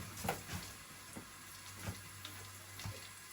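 Garlic and onion frying in a pan for chicken kinamatisan, a quiet, soft, continuous sizzle broken by a few faint clicks and pops at irregular intervals.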